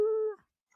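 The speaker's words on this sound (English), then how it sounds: "I'm fighting my damn dog" A dog gives a single short, tonal whine close by, sustained for about a third of a second before cutting off, followed by near silence and a tiny faint squeak.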